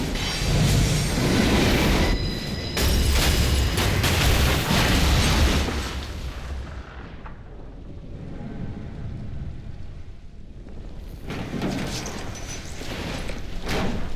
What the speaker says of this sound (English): Then, the entire subway crashes.